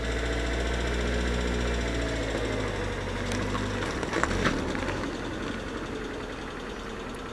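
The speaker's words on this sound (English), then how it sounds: "Man's driving his Punto." A Fiat Punto engine hums and rumbles from inside the car while driving, a steady mid-pitched drone with some knocking vibration that shifts partway through, no speech over it.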